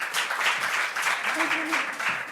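A lecture audience greets the speaker with a brief burst of steady applause, many hands clapping evenly at moderate distance, with a voice speaking over the tail end.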